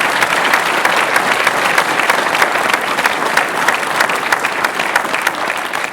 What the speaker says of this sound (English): How about a round of applause for each one of your candidates?